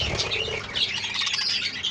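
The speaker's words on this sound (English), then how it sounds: "Blue budgie in the back, that's a crested" Pet budgies, this year's young birds among them, chirp and warble in a busy, continuous chatter of overlapping tweets close by, with no talk.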